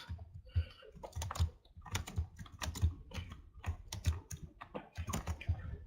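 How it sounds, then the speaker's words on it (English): Rapid clacking keystrokes on a computer keyboard in uneven bursts, close and clear with no talking. "let's type few more cards"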